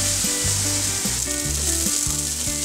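Paneer tipped into sautéed tomatoes and onion in a hot pan, a loud continuous sizzle with tonal hum running underneath, close and steady with no voices.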